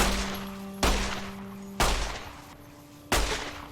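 Gunfire hits a ghoul in the video game Don't Feed the Plants: three loud, separate shots about a second apart, each with a booming decaying tail over a faint low hum.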